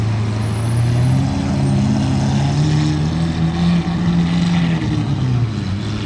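Aston Martin convoy cars in Monaco with an aftermarket exhaust rumbling past, a loud, steady engine drone whose pitch rises and falls slightly as they move by, with no speech.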